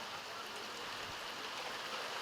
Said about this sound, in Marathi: अवकाळी पाऊस तसंच गारा देखील पडल्या आहेत।